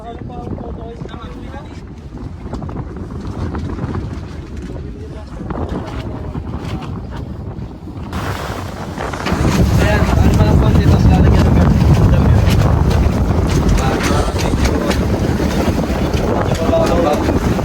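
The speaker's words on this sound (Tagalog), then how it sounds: "Paalis na po yung bangka." An island boat pulls away in strong wind, heavy gusts buffeting the microphone over the hum of the craft, then a sudden louder roar of wind and water as it gets under way, with a few voices scattered through.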